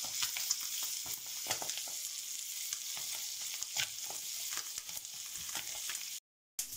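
Steady crackling sizzle of poultry searing on one side in a pan on induction, continuous and fairly quiet, with small pops and a brief cut of silence near the end.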